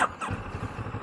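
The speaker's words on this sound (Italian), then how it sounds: "Mettiamo in moto la motina" A CFMOTO 650MT twin motorcycle from 2023 catching and settling into a low, even idle, its pulses throbbing steadily and close for about a second.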